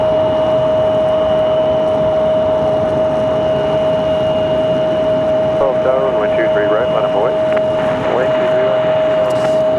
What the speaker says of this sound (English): It's an A300, not a 767 tonight.